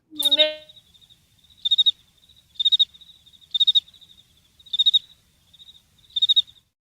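Cricket chirping used as a sound effect, pulsing in six evenly spaced bursts of rapid high trills after a brief opening sweep, clear and isolated against silence.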